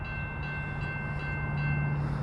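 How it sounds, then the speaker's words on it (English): A SEPTA Regional Rail train of Silverliner 5 cars rolls through the Lower State Road grade crossing, a loud, steady rumble with a low hum that holds close and continuous for the whole stretch. "Right now coming through is SEPTA Regional Rail Line 6516 with the Silverliner 5s."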